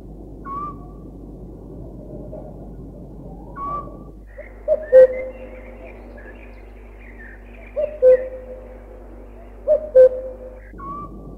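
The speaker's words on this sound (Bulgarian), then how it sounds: "чухалът нощем отговаря: чух, чух, с тъжния си глас" A Eurasian scops owl calls at night, sending out short, mellow whistled notes in spaced pairs over a steady low hum and faint background birdsong.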